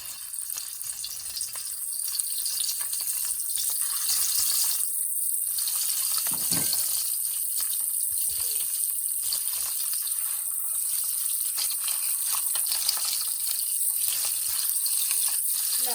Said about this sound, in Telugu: ఆయిల్ హీట్ అయిన తర్వాత ఇలా కోట్ చేసుకున్న ఎగ్లను వేసుకొని ఫ్రై చేసుకోవాలి.